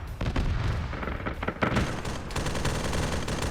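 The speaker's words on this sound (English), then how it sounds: "those airstrikes are being a bit of a problem" Airstrikes hit a Warhammer 40K battlefield scenario of Steel Legion and Krieg troops against Orks, with rapid bursts of loud explosions and rattling gunfire that crack repeatedly and close together, followed by a sustained barrage.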